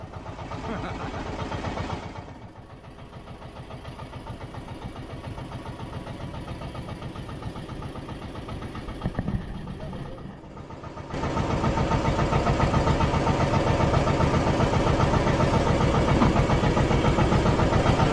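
A boat engine drones steadily at close range, running quieter at first and then growing louder and rougher for the rest.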